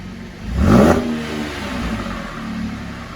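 A car engine fitted with aftermarket exhaust mufflers revs once sharply, a loud close surge that peaks and then settles back to a steady idle rumble, heard alone without talk.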